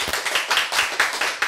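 A short burst of rhythmic clapping from a lecture audience during a Bible class, roughly evenly spaced claps across under two seconds, fairly loud and close, with no talking.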